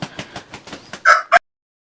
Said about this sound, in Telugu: ఇక్కడ చూడండి కోళ్ళు కూడా ఎలా ఉంటాయో ఈ విధంగా ఉంటాయి కోళ్ళు